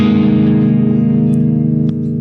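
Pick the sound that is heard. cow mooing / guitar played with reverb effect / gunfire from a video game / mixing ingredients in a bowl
guitar played with reverb effect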